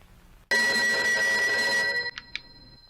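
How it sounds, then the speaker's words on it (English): A Sesame Street toy telephone from the film Skinamarink rings with a loud electronic tone that starts abruptly and holds for about a second and a half, followed by two short chirps. "Skinamarink's scene where the toy telephone turns on randomly"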